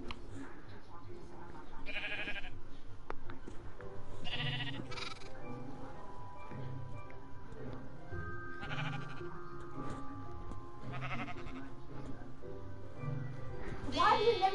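Sheep in the video game Minecraft bleat in several short calls spaced a few seconds apart, mixed with game sounds while a person talks and sings over them.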